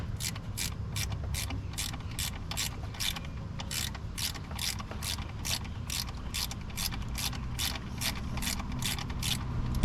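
A ratchet clicks rapidly and evenly, tightening a small bolt during an alternator and ECM install on a 2005 Duramax LLY 2500 pickup; the sharp close clicks repeat in a steady run for the whole stretch.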